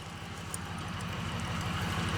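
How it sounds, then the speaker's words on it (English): A diesel truck engine idles steadily nearby, a low, even rumble with a regular throbbing pulse running unbroken and alone throughout, quiet but constant. "My neighbor's got a diesel truck that's been idling for an hour."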